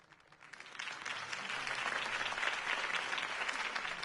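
Crowd applause rising after Harvey Dent's campaign speech in a Batman video game, starting softly and swelling into steady, dense clapping that holds for several seconds.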